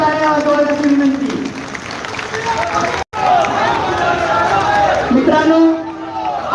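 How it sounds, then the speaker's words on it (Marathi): A large audience at a Kandivali public inauguration ceremony applauds loudly for the local MLA, a dense steady wash of clapping and crowd noise with a brief dropout midway, while a voice talks over it. "माननीय जोरात टाळ्या वाजवण्याची विनंती."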